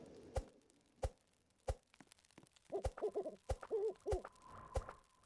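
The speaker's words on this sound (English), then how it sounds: "Oh, I hear the owl." Owl hooting in the Roblox forest survival game 99 Nights in the Forest, a soft, quiet sequence of rhythmic hoots broken by sharp, evenly spaced clicks, heard alone without talk.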